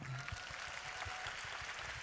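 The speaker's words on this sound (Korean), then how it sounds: "그런 의미에서 한번 박수 칠까요?" An audience at a talk claps briefly, a soft, fairly faint patter of many hands that fills the short moment evenly.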